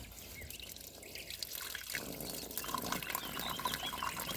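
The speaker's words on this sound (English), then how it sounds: "When the water reaches this level, it will start spilling on the other side." Water spilling through a PVC siphon fed from an IBC tote into a tree-watering basin, a steady close trickle and splash that grows fuller and louder as the flow starts.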